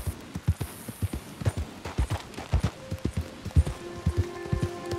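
Steady clip-clop of horse hooves at a trotting rhythm in Red Dead Redemption 2, fairly close, with faint background tones and no talking.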